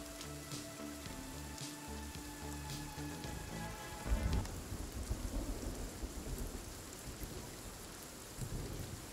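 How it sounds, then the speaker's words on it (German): Rain and thunder in the survival game Sons of the Forest: steady rain hiss over a low thunder rumble, with a sharper crack partway through, while faint background music fades out early. "Wegen dem Regen und so höre ich halt fast gar nichts."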